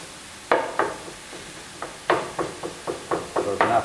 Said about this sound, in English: I'm getting this nice and chopped and sauteed